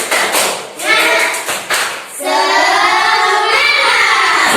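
A fifth-grade classroom claps out a short patterned cheer rhythm in sharp, loud bursts, followed by the children chanting together in unison.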